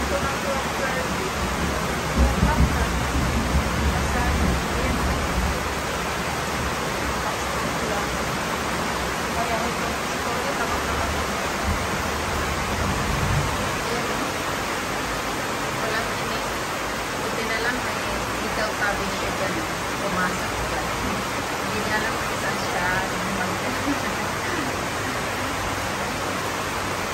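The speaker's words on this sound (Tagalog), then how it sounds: "Lakas ng ulan." Heavy rain pours in a dense, steady roar throughout a rural provincial setting, with a deeper rumbling swell in the first half; a voice is heard speaking over it at times.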